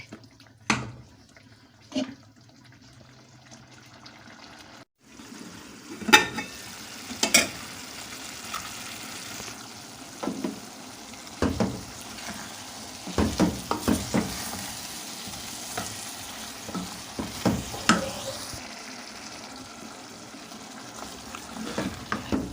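Chopped ridge gourd (tori) sizzles and is stirred in a pan, a continuous low frying hiss broken by frequent scraping and clinking of a spoon against the metal, steady and close with no talk.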